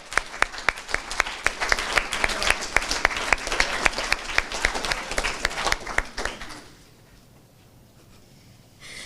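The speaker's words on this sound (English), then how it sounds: "Everyone give him a big round of applause." A student government senate audience at Auburn University gives a round of applause, a lively spread of clapping with a few sharp, rhythmic claps standing out, fading out after about six seconds into quiet room tone.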